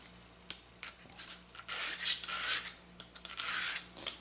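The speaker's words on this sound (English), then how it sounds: "I'll give this a little bit more." A plane iron is being sanded on a belt sander held in a jig to put a small back bevel on it. It gives off a close, abrasive rasping that comes in short uneven bursts and gaps, with no talk.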